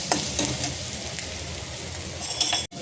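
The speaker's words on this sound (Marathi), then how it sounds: "तर इथे ठेचलेलं लसूण आणि मिरचीचा ठेचा टाकूया। 2 मिनटं यांना चांगलं भाजून घेऊया" Crushed garlic and chilli paste fry in a pan for a Kolhapur-style cluster bean dish, a steady dense sizzle with a few brighter spitting bursts, close and continuous, then a brief drop near the end.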